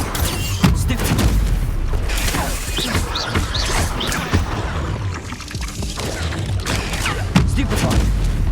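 Spell blasts in Hogwarts Legacy: a rapid, loud barrage of magical bolts, impacts and crashes during a hectic wizard duel, with shouted incantations over dense game effects.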